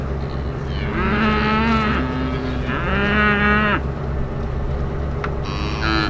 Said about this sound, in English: The cows are coming